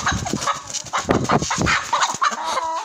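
A Brahma hen clucks and squawks in agitated, rapid bursts as she is caught, close up with rustling and scuffling around her.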